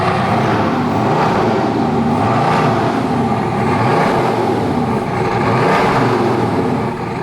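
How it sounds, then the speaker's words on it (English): Bugatti Veyron engine on a cold start, a loud, steady roar filling the whole stretch with slight rises and falls in intensity, close by and with no voices over it. "let's have a listen to a cold start. That's loud."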